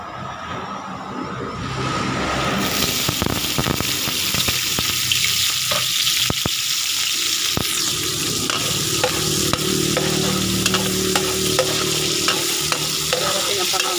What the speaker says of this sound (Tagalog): Ngayon nilagay na natin yung bawang sibuyas.